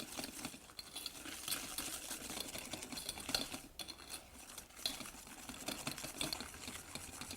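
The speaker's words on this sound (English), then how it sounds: "as you whisk together egg yolks and sugar, you're going to see that the color of the yellow gets paler" Egg yolks and sugar whisked together in a bowl: a continuous fast, faint scraping and tapping of wire against the bowl, steady and rhythmic throughout with no voice.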